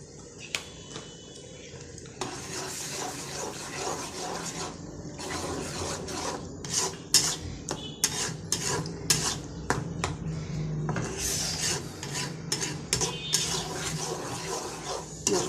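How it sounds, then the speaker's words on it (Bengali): Ground chili, turmeric and coriander stirred and sautéed in a pan for a gourd and shrimp curry, a run of scraping, rasping spatula strokes against metal under a low sizzle, close and rhythmic. "মশলাটা ভালো করে কষে নিই।"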